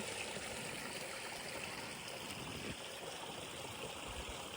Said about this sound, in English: Next to this beautiful waterfall swimming hole.